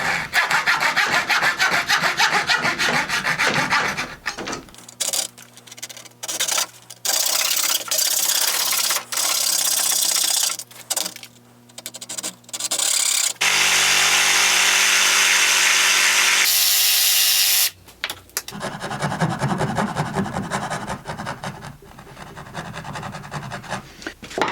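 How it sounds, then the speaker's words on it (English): A coping saw rasps back and forth through wooden moulding, cutting a scribe on dado rail, picture rail or skirting board trim. Steady close-up strokes come in several runs, broken by short pauses. "I'll be using a coping saw for my cut"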